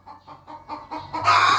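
A hen clucks indoors in a house in a quick series of short, close calls, rising into a louder, drawn-out squawk at the end.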